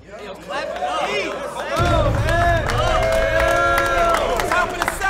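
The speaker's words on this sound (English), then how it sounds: "Yo, clap it up." Rap battle crowd claps and cheers over loud voices shouting and chattering, building into a dense, boisterous roar after the first couple of seconds and staying loud to the end.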